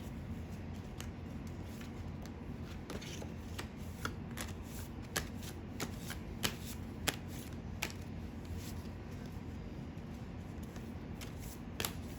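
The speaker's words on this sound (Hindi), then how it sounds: "चलिए आपके अब हम कार्ड निकाल लेते हैं।" Tarot cards being shuffled by hand, a soft continuous riffling and sliding with faint, scattered card snaps, quiet and close.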